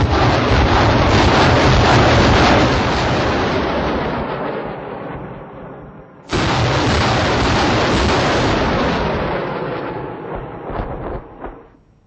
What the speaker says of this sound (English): you'll be soon witnessing the lethality of the multi-barrel rocket launchers firing from your right side